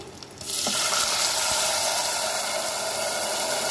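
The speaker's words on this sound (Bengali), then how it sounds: "এবার দিয়ে দেবো আন্দাজ মতন জল" Water is poured into moong dal khichuri with gobindobhog rice in a pressure cooker, a sudden steady rushing hiss that starts abruptly and carries on, close and fairly loud.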